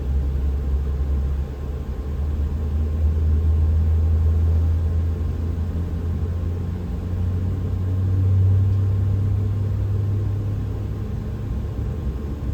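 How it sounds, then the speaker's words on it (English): Boeing 777 engine spooling up during start in a 777-200LR flight simulator, a steady low rumble and hum that swells slightly around the middle and holds on without voices. "Make sure the engine's starting okay."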